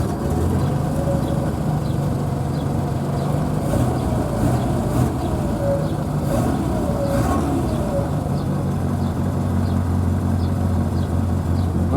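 A Triumph Spitfire engine runs steadily at idle right after starting, a low continuous rumble with faint ticking on top, moderately quiet and with no talking.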